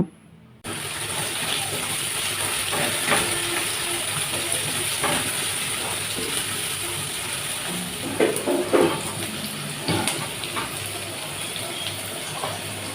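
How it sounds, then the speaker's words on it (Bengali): Chopped onion, garlic and green chili frying in hot oil, a loud steady hiss that starts abruptly and keeps on with scattered stirring knocks, no talk. "পেঁয়াজ কুচি রসুন দানা ও কাঁচামরিচ দিয়ে অল্প কিছুক্ষণ ভেজে নেব"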